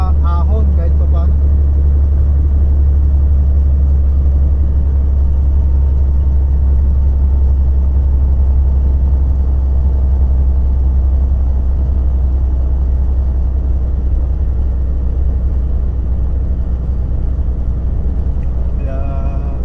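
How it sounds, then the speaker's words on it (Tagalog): An old Volvo truck engine labors uphill, a steady, loud low-pitched drone that holds constant throughout with no break. "Malakas pa rin ang truck natin sa ahon kahit pa paano."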